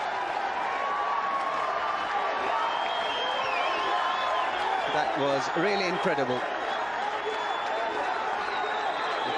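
A cricket crowd at a Pakistan versus India match roars and cheers after a huge hit, a broad, steady wash of noise under a commentator's voice.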